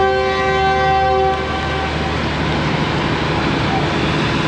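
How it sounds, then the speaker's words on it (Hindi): The Awam Express pulls away from Peshawar Cantt railway station with a loud, sustained horn blast that gives way to the rumble and clatter of the moving train, heard up close on the platform. "पूरे 8:30 बजे डिपार्चर हो गया है 14 टाउन अवाम एक्सप्रेस का पेशावर कैंट रेलवे स्टेशन से"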